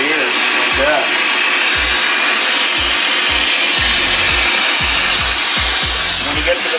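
Electric hair clippers fitted with a short guard adapter buzz steadily and loudly close to the microphone while cutting a man's hair at home. Soft low thumps recur as the clippers pass through the hair.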